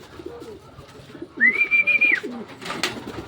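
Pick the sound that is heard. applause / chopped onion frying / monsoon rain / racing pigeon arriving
racing pigeon arriving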